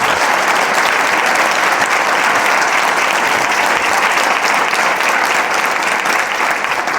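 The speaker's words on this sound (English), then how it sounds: "Give them a nice big round of applause." An audience at an ESPN sit-down interview with the Savannah Bananas applauds, giving loud, dense, sustained clapping that holds steady throughout with no talk over it.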